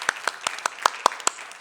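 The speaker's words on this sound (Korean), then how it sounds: "박수 한번 보내야 되겠죠?" A small church congregation at a Wednesday worship service claps in a sparse, evenly spaced rhythm, about seven distinct claps, fairly quiet and close.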